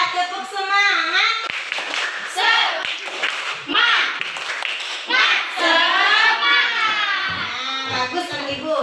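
Schoolchildren in an Islamic studies classroom perform a rhythmic spirit clap, their young voices chanting loudly throughout with sharp claps scattered among them.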